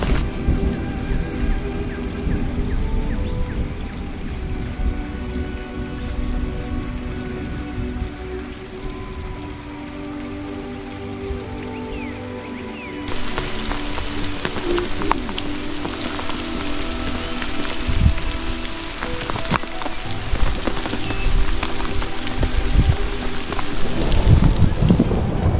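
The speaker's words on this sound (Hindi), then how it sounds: "बारिश बहुत तेज हो चुकी है" Heavy monsoon rain pours steadily on a hill station, a dense, loud hiss of drops on surfaces that grows even stronger partway through, with occasional sharper splashes and low rumbles and no talking.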